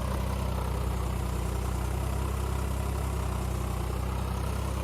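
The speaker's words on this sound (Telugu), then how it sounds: "బుడద గొర్రె లేకుండా ట్రాక్టర్ రోటివేటర్ డోర్ తోటే ఒక సాల్ దున్నిన తర్వాత మళ్ళీ తర్వాత చదును చేసుకుంటా వస్తున్నాం" A tractor pulling a rotavator levels a wet field, its engine giving a steady, loud, low droning rumble throughout without any change in pace, close to the listener.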